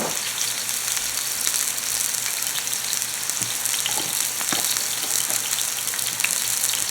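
Meat searing in a hot pan, a steady loud sizzle with fine crackling pops scattered throughout, close and continuous with no talking.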